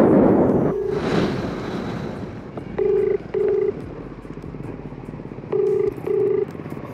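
An outgoing mobile phone call that goes unanswered: the ringback tone sounds in two pairs of short beeps, each pair a pulse, over outdoor wind noise and a muffled rumble.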